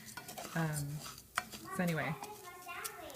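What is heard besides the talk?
stirring rice frying in oil for Mexican rice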